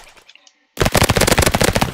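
A video game Uzi submachine gun fires a loud, rapid automatic burst after a brief quiet gap, the close, punchy shots rattling on steadily to the end.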